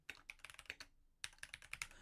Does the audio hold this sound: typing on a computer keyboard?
yes